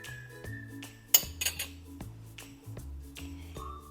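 A spoon stirs brown sugar into ginger tea, giving repeated bright metallic clinks and taps against the cup or pan, with soft background music playing underneath.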